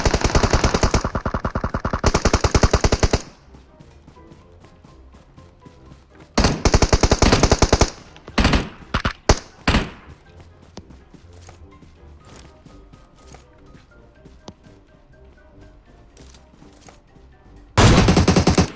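Loud bursts of automatic gunfire from the PUBG Mobile shooter game, several rapid volleys separated by quieter in-game ambience and a few scattered single shots.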